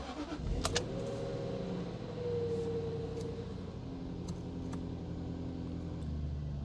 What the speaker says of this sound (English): And let's get this engine started.